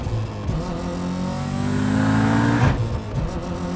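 A 600HP Subaru STI accelerating hard in second gear on the street, its loud exhaust rising steadily in pitch before a sharp shift near the end, up close and without talk.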